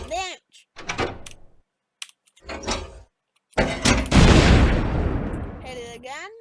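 A weapon fires in the Stormworks game, loud sharp blasts followed by a long crashing rumble that trails off, with spoken bursts around the shots.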